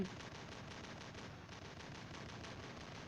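Sustained video game machine-gun fire rattling in a continuous dense stream of rapid shots, steady and loud throughout with no talking over it.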